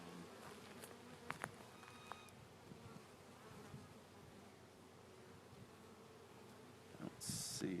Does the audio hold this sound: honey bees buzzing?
yes